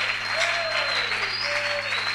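Church congregation applauding during an evening worship service, a steady, dense wash of clapping held at even loudness throughout, with a faint sustained tone riding over it.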